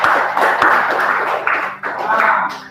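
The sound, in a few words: class applauding a student group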